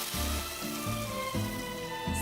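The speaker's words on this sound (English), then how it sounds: "You said the mushrooms needed to be cooked at high heat, right? I can do that for you right now." Mushrooms sizzle at high heat in a cast iron pan inside the Genshin Impact video game, a steady frying hiss with soft rhythmic pulses underneath, close and continuous.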